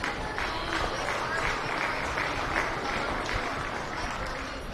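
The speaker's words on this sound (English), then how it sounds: "Let's give them a round of applause" A crowd at a county fair swine show applauds steadily, a dense wash of clapping that holds evenly throughout with no pauses.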